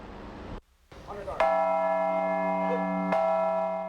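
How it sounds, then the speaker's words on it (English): A bell is struck twice at a 9/11 memorial ceremony for fallen firefighters, each strike ringing out in a long, resonant tone that lingers and overlaps, with quiet murmuring before the first. "especially the ringing of the bell"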